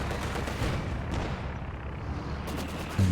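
Mortar fire during a competitive video game playoff match: a steady wash of battle rumble with muffled booms and crackling blasts running throughout, ending in a louder thump, with no voices.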